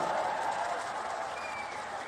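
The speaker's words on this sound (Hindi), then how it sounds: "जोर से एक बार ताली बजाकर स्वागत करिए हमारे सांसद का" A crowd at an election rally for the 2024 Lok Sabha campaign claps steadily to welcome a member of parliament, a dense wash of applause that slowly fades.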